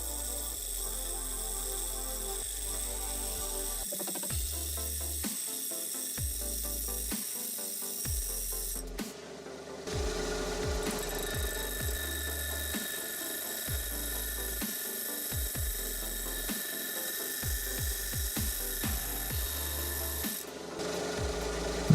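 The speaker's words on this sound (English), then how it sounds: "Using a sander, I make a recess in the place of the cut." Sander cutting a recess into wood at the spot of a cut, a raspy grinding sound in repeated passes with brief pauses between strokes, close and fairly loud with no talking.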